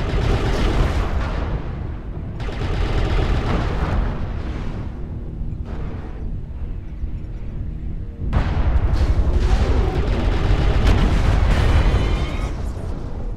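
Heavy incoming missile impacts in the mech combat game MechWarrior Online: repeated booming blasts and rumbling detonations in loud bursts, with a brief lull before a fresh barrage.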